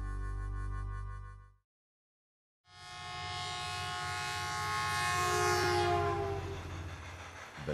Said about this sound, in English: night trains are running.